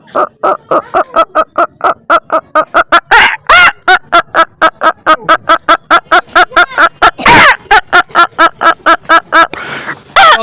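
A voice imitates a rooster crowing, a long run of loud, rapid, evenly spaced cackling bursts with a few longer drawn-out calls, close and dominant.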